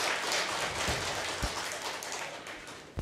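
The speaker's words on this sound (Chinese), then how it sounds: "我们鼓掌，将荣耀归给主" A church congregation applauds, a soft, steady wash of many clapping hands heard from a distance and sustained without a break.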